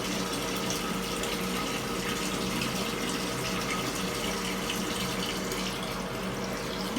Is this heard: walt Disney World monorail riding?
no